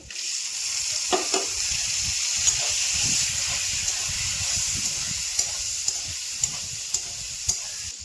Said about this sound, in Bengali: টমেটো দিয়ে ভালো করে মশলাটা আমি কষিয়ে নিয়েছি